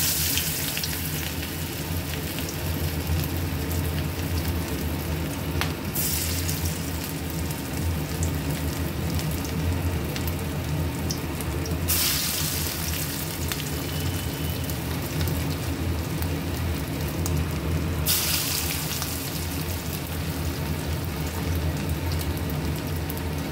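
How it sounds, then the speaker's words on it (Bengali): Banana flower koftas deep-fry in a pan of oil, giving a dense, continuous crackling hiss that holds steady and close for the whole stretch, with no voices. "একে একে সব কোপ্তাগুলো এইভাবে ছেড়ে দেব।"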